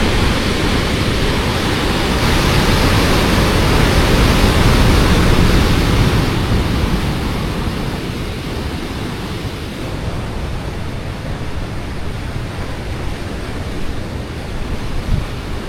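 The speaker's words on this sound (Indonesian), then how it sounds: "Lihat deburan ombaknya guys," Big surf crashing at Pantai Ayah beach in Kebumen, a continuous roaring wash of breaking waves close by, swelling and easing with heavy wind rumble on the microphone.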